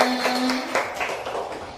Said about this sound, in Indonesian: beri tepuk tangan dulu semuanya